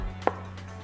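A single sharp knife chop through washed coriander stems and roots, cutting them short on a board, one crisp close knock over a low steady hum.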